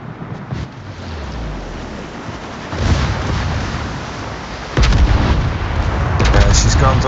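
Warship guns fire in the naval video game World of Warships, heavy booming salvos with rumbling blasts over a constant roar of sea and engine, loud and close, the strongest volley landing near the end.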